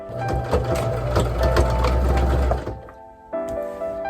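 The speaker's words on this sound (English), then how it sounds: "I'm going to sew the opening where the seams are" Sewing machine stitching a quilt inside a fifth-wheel camper, a loud, close, steady mechanical whir for a few seconds that stops abruptly, followed by a brief quieter hum and a short restart with no voices.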